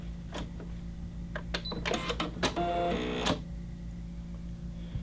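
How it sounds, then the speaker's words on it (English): A Brother SE600 sewing and embroidery machine runs its automatic thread cutter, giving a short burst of whirring, clicking mechanism over a steady motor hum, close and fairly quiet, with no talking. "I'm going to hit this button to cut the thread on the inside."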